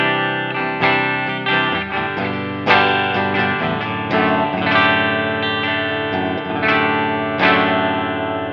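Electric guitar played through the ML Sound Lab Amped ML800 Marshall-style amp on its classic clean preset, a steady run of ringing chords and notes with a light chorus shimmer and reverb tail, loud and alone with no voices.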